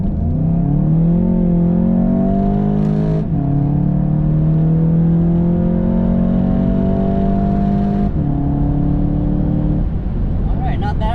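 A 2017 VW Golf GTI accelerates hard onto an interstate, its engine note climbing through two gear changes with a brief drop at each shift, loud and close from inside the cabin.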